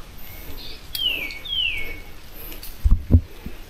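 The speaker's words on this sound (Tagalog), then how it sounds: "Tsaka nag-iingay na yung ibon." A bird gives a couple of thin, descending whistled calls at a distance, followed by a few soft knocks nearby.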